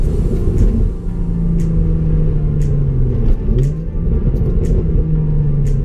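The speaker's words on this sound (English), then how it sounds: "One thing I love doing in this car is rev matching downshifts." Hyundai Genesis Coupe engine revving through rev-matched downshifts, a steady loud rumble with pitch rising and falling in short swells, close and alone without talk.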